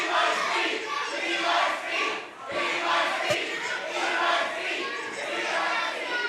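A wrestling crowd at a Coastal Empire Wrestling show roars steadily for Hakeem, a dense, sustained wash of cheering and shouting that swells and dips slightly throughout.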